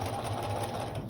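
A sewing machine runs steadily at close range for a brief moment, giving a fast, even mechanical whir with no voices over it.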